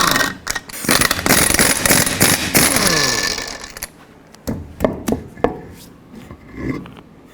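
Lug nuts being spun off the rear wheel of a 2014-2018 GMC Sierra with a socket: a dense stretch of rapid ratcheting and metallic rasping up close, then a few separate clanks and taps as the nuts come free.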